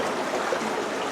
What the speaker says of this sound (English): And the water's flowing down underneath it and out the other side.